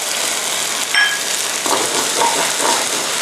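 Eggs hit a hot wok for river-prawn pad thai, giving a loud, steady, close crackling sizzle that runs the whole time with slight swells and no talking.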